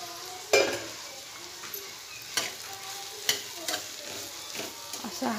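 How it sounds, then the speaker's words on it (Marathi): A soybean sandge curry is stirred and fried in a pan: a steady close sizzle punctuated by several sharp scraping knocks of the spoon against the pan at irregular intervals. "असं हलवून आपल्या भाजीला व्यवस्थित परतणार आहोत"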